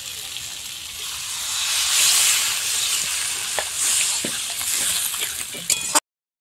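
Water poured onto okra frying in a pan sets off a loud, hissing sizzle that swells and then settles, with a few utensil clinks near the end before it cuts off.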